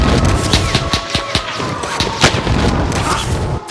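Rapid gunfire from Call of Duty: Modern Warfare, loud and close, with dense bursts of shots and thumping booms stacked over a continuous battle din.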